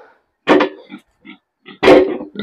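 Five-month-old gilt pig on a farm grunting in several short, close bursts, two loud squealing grunts with softer snorts between them, and silence in the gaps.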